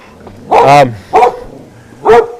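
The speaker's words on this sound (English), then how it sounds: "More guard dogs." Guard dogs bark loudly and close: three sharp, separate barks spaced roughly half a second apart, the first slightly longer and rougher.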